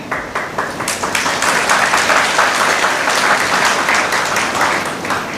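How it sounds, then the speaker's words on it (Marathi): An audience at a youth parliament session breaks into sustained applause, dense clapping that stays loud and even throughout without stopping. "तुम्ही टाळ्या वाजवल्या म्हणून तुमचे आभार मानते"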